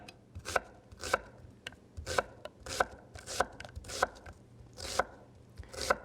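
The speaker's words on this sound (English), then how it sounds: "I'm just going to cut it up into strips" A sharp knife chops an onion into fine strips on a board, giving crisp rhythmic thuds that come steadily and close, about one every half second.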